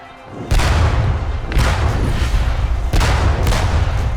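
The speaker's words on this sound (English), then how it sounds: "Our whole artillery was again discharged at them." Artillery volley firing in the video game Be Washington: loud booming cannon blasts at about 0.5, 1.5, 2.9 and 3.5 seconds, each followed by a rolling, rumbling tail, with no talk.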